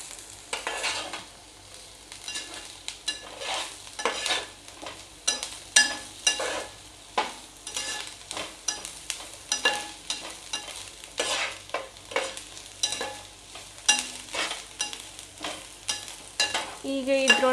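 Spicy Kolhapuri misal curry bubbles and sizzles in a pan, with steady crackling and frequent stirring scrapes close up and no talking.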